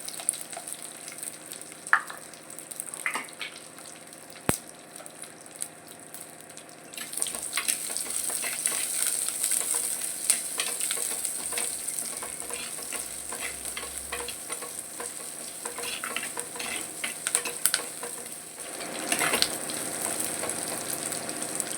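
Onions sautéing in oil with fenugreek and curry leaves for a sankara fish curry. The sizzle is quiet at first, then grows into a steady, louder fry after a few seconds, with occasional scrapes of stirring.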